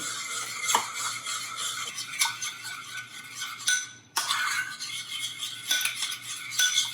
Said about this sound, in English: And we're going to stir it up.